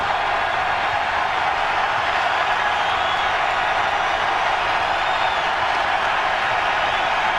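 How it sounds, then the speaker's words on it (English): Boston Celtics fans in a basketball arena cheer during a 2003 playoff game against the Nets, a dense, steady roar of crowd noise filling the space without pause. "Crowd on its feet."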